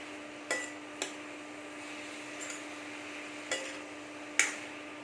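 A spoon stirs potato and amaranth curry with chili powder in a pan, giving a few sharp scraping clinks at irregular intervals over a faint steady hum, with no talking.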